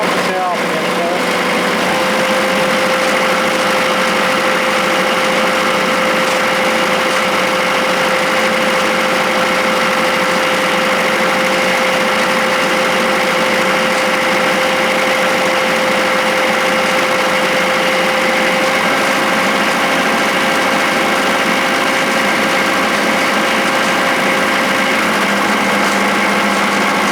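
A machine's engine runs steadily at idle for the full stretch to build air pressure back up, a constant mid-pitched drone with a faint steady whine and light rattles, close and continuous with no talk over it.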